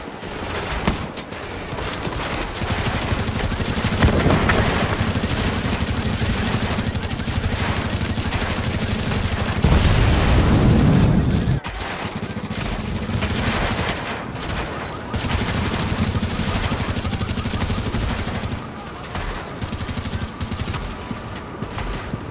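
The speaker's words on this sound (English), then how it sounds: "At Grand Central, we are under heavy fire." Heavy, sustained gunfire in The Division during a hard firefight at Grand Central Station, dense overlapping automatic bursts rattling almost without pause, with louder swells and brief lulls throughout.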